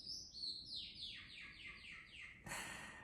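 A small bird chirps in quick descending trills, bright and close, repeating several times before a louder burst of chirping near the end.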